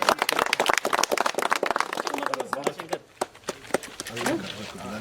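A crowd claps after a village cooperative election result is announced, a burst of close, dense applause with a voice speaking over it that thins out partway through, then scattered claps.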